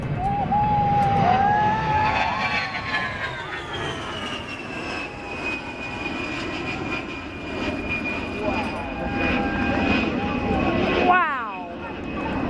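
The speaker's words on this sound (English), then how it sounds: "The A-10 coming in for a flyby." An A-10 jet aircraft makes a flyby at an airfield, its engine whine building and sweeping in pitch as it passes, with excited voices talking over it throughout.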